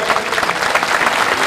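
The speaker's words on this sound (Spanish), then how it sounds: "Un aplauso más fuerte para despedir la actuación" Audience applause at an opening-day concert, sending off a group after their musical performance; dense, steady clapping from a crowd fills the whole moment at a loud, even level.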